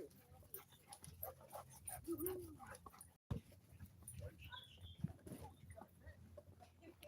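A dog whimpers and yips in a quiet outdoor setting, with soft panting and short whines scattered throughout under low background noise.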